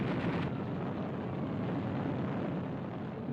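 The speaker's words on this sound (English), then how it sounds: "a preemptive bombing raid caught large numbers of US aircraft neatly lined up at Clark Field" Bombing raid on US aircraft lined up at Clark Field: a continuous, loud, dense rumbling roar of explosions with no distinct individual blasts, carrying on without pause throughout.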